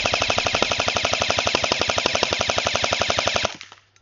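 Rapid, steady burst of airsoft fire from a gun fed by a standard M4 magazine, loud and close with evenly spaced shots for about three and a half seconds before stopping abruptly.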